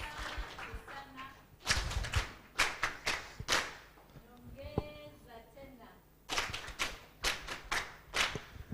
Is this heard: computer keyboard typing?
no